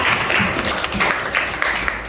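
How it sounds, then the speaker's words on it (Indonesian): A group in a teacher-training classroom session claps together, a dense, continuous patter of hands at moderate loudness throughout, with no clear pauses. "tepuk tangan untuk kita semua"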